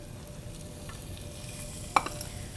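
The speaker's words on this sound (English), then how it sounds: "Then to the butter, we're gonna add some julienned white onion" Julienned white onion sizzling in melted whole butter in a pan, a steady close frying hiss with a brief clink of stirring near the end, no voices.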